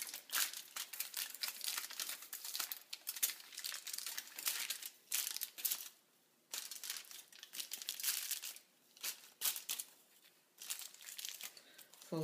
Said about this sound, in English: Gonna fold the foil.